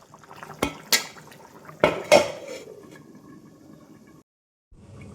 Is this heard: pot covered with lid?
yes